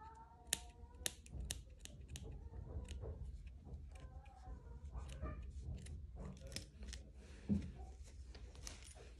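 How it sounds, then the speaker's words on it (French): Scissors snip loose crochet yarn ends on a Christmas ornament, a series of sharp, close clicks and snips at an irregular pace over a quiet background. "je vais couper les fils qui dépassent ici"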